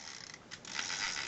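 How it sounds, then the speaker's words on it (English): Kodak Instamatic X90 camera having its clockwork wound by pulling a tab, giving a brief, faint whirring and ratcheting mechanical buzz that lasts just over a second. "you have a tab down here, and you pull it out, and that winds up the clockwork"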